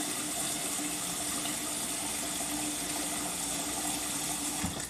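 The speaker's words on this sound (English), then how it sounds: "you're going to cover them with water" Tap water pours steadily into a pot of potatoes for boiling, a continuous gushing, filling sound close by in a home kitchen, with no talking.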